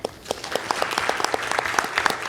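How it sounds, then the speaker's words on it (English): Audience applause fills a convention centre hall at an Assembly of Manitoba Chiefs voting event, a steady wash of many hands clapping, moderately loud and continuous, with no talk over it. "Let's give a round of applause for James."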